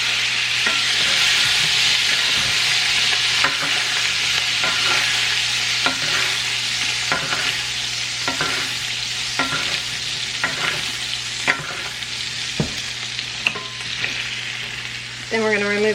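Fish frying in a pan with spices, a steady loud sizzle with scattered pops and the clink of stirring throughout, no talk.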